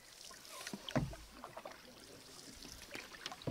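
Motorized canoe moving across Lake Rotoroa in New Zealand, with soft water lapping and sloshing against the hull under a low steady drone, close and fairly quiet.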